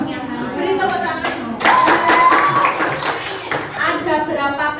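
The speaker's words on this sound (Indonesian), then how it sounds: "Beri tepuk tangan." A classroom of children claps together for a group about to present, a steady busy patter of many small hands that swells midway, with voices mixed in.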